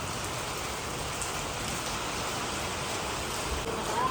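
Heavy rain pours down on a small farm during a damaging storm, a dense, steady roar of drops on surfaces, loud and close throughout with no voices.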